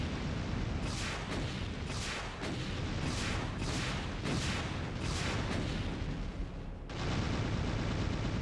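A Spider Mastermind in Doom with the Brutal Mod fires in a rapid, relentless chaingun stream, loud and dense, with rhythmic bursts of heavy shots. A brief gap near the end is followed by more sustained roaring fire.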